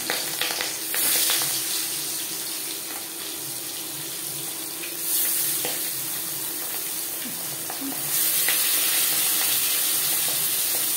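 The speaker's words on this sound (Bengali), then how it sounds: "এবার দিয়ে দেব ম্যারিনেট করে রাখা মাছ।" Marinated fish frying in four spoons of hot refined oil, a steady bright sizzle with louder surges every few seconds as the pieces crackle, close and unbroken by speech.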